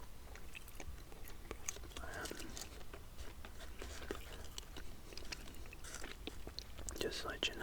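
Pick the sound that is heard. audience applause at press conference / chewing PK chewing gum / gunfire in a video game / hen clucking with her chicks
chewing PK chewing gum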